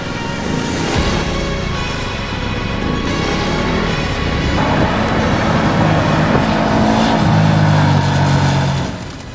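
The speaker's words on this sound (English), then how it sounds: "The sound of the V-twin engine through the exhaust was" Ducati V-twin motorcycle engine heard through its exhaust on a mountain track, a steady loud rumbling drone that rises and swells toward the end, close and continuous with no talking.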